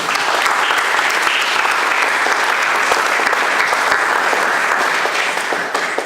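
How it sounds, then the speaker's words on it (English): Steady, dense applause from a large crowd at a college tour event, holding at an even, loud level for about six seconds with no break. "I want to give them a round of applause"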